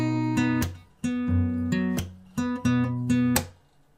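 Acoustic guitar playing the opening of bars 42 to 43 of a fingerstyle arrangement: close, clear picked notes with bass tones and sharp percussive slaps recurring in a steady rhythm, solo with no talking.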